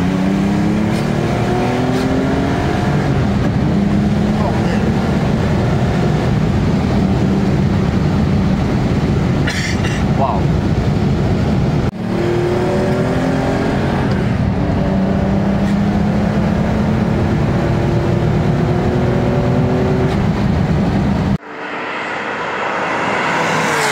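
A Porsche 930 SC's engine runs loudly and continuously through a drive, its tone climbing and falling through several revs before cutting to a quieter cabin sound near the end.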